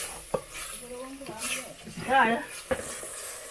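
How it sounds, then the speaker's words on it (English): A spoon stirring kale and fish in a cooking pot over a village cook fire, producing soft scraping and a few sharp knocks against the pot, heard close beneath a person's talking. "After that, I have to stir. We are doing the vegetables, guys. And the fish."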